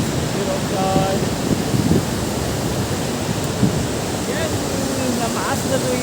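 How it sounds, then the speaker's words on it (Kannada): Water pours heavily over the Ramadevara Katte waterfall in Hassan, Karnataka, a loud, constant broadband rush filling the whole stretch, with faint voices of people talking somewhere beneath it. "ಯಾವ ಥರ ತುಂಬಿ ಸುರಿದು ಹೋಗ್ತಾ ಇದೆ ನೀರು ನೋಡಿ"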